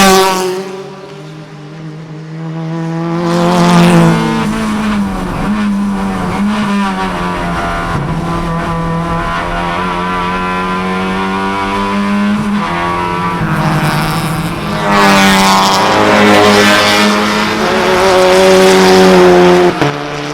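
Honda City and Honda Jazz touring cars race in an ITC event at the MRF weekend, their engines droning loudly and steadily with rising and falling pitch as they pass close by, with no talk over them.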